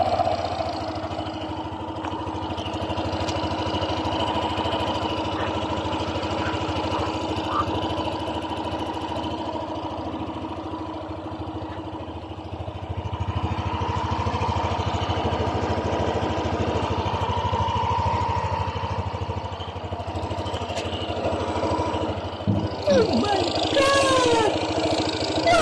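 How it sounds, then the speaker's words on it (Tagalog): A Yamaha NMAX 155 scooter engine idles steadily after a connecting rod replacement, a close, even mechanical drone that holds throughout, with a few clicks and a brief clatter near the end. "Ito naman tunog ng makina guys pagkatapos natin siyang mapalitan ng connecting rod."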